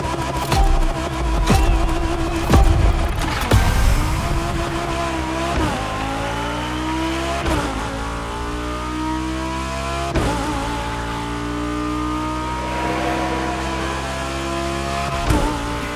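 Lamborghini Egoista supercar engine in The Crew Motorfest, revving hard with sharp throttle blips and rising pitch sweeps as it accelerates, loud and close throughout with a brief tire squeal early on.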